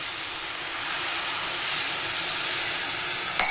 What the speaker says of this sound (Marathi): तर आता हे 1 ग्लास पाणी ना ऍड करते मी त्याच्यामध्ये